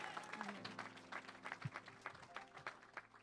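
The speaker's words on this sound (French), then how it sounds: "May we applaud for the word of God." A church congregation applauds during a sermon, with steady rapid clapping from many hands that is fairly faint and distant, while some cheering voices mix in throughout.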